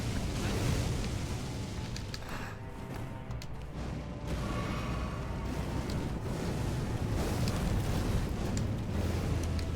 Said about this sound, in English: Big spinny explosion?